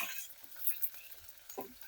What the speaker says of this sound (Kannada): ಇದನ್ನೆಲ್ಲ ಚೆನ್ನಾಗಿ ಫ್ರೈ ಮಾಡ್ಕೋಬೇಕು.